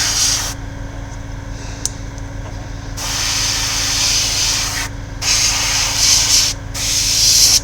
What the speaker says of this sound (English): I don't want to spray it too heavy. I want to lightly coat all of it.